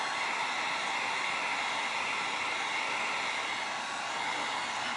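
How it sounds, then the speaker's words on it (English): A heat gun blows steadily to dry paint on a flower painting, giving a constant loud hiss-roar of forced air that holds unbroken throughout with no talking. "let me put a heat gun to this"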